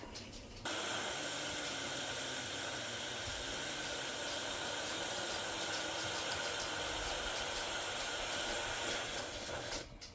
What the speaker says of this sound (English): it'll start to make a steaming sound as the pressure is building up